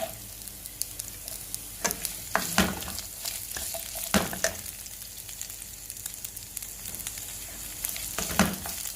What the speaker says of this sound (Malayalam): ഇനി നമ്മൾ എടുത്തു വെച്ചിരുന്ന ചോപ്പ് ചെയ്ത ഒരു ഉള്ളി എടുക്കുന്നു